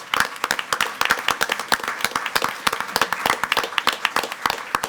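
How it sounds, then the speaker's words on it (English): Audience applause at a school board meeting, a steady burst of many hands clapping close and loud throughout, with dense individual claps and no talking over it. "Give a round of applause."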